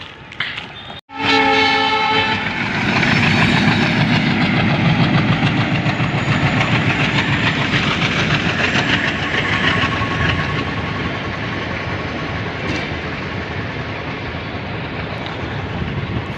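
A passenger train horn blares loudly at the start, then the train rolls past close by with a steady, continuous rumble of wheels and carriages that holds for the rest of the span.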